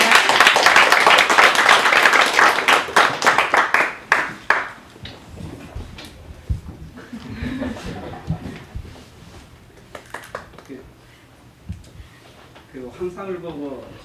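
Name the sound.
audience applause at book launch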